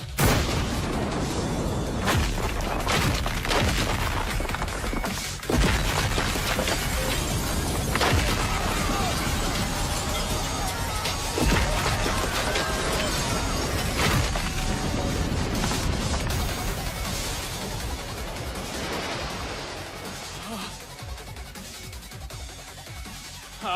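A thrown bomb explodes in a video game, followed by a dense barrage of booming blasts and crashing impacts that stays loud for most of the stretch before easing slightly near the end.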